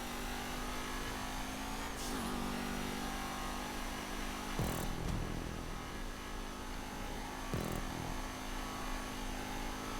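A steady, loud engine drone from the Exemplar car in GTA 5, revving continuously with brief shifts and dips in pitch as the car races along a track.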